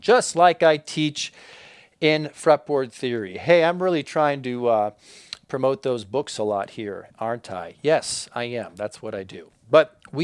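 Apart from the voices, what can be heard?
None of the usual background noises is heard.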